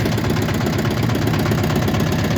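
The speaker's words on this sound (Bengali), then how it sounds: "আমাদের পিছনে আরেকটা জাহাজ যাচ্ছে" A ship's engine on the Shitalakshya river gives a continuous, loud low throbbing rumble with a steady mechanical chug, no voices.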